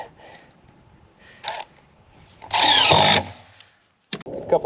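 A power drill driving screws into concrete form material on a suspended ICF floor build, heard as short close bursts of whine, one longer run, a few brief handling knocks and quiet gaps between.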